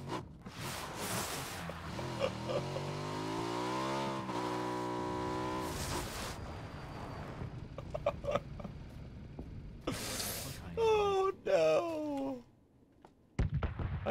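A vehicle engine revving and droning in the battle royale game PUBG, with rising and falling pitch as it drives and shifts, loud and continuous, punctuated by sharp thunks and impact noises.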